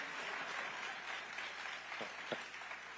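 A large crowd at a Barack Obama speech event keeps up steady applause, a dense wash of clapping heard from some distance, with a couple of louder claps near the end.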